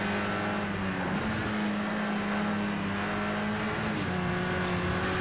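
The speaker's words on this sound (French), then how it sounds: "On est en train de tuer le moteur de cette voiture." A race car engine strains hard at high revs during a career race on the Nordschleife in Project CARS 2, a loud continuous drone with shifting pitch and a brief dip near the middle, with no talk over it.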